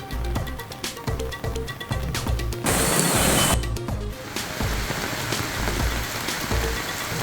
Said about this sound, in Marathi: पुणे शहरासह उपनगरात जोरदार पाऊस